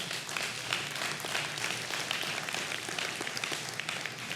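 A church congregation applauds during a worship service, a dense, steady wash of many hands clapping that holds at an even level throughout without a break.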